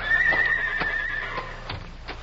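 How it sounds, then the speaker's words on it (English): Horses whinny in an old-time radio drama, one high neigh drawn out near the front, with soft hoof clip-clops and faint snorts around it. "Those are the Clayton horses, all right."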